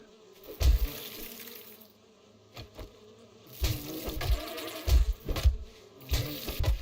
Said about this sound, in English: I'll just die to a swarm of bees.